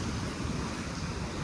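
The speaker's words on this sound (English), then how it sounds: "The waves are crashing into shore." Ocean waves at high tide crash onto the shore in a steady, loud, broadband roar of surf that fills the whole stretch, with no talk.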